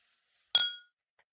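Two drinking glasses clink once in a toast, a single bright ringing chime that decays quickly in an otherwise quiet room.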